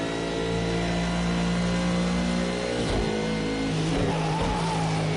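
A McLaren race car engine in Project Cars 2 screams loud and close, holding a high rev note, dipping briefly around a shift or lift, then pulling hard again as it accelerates.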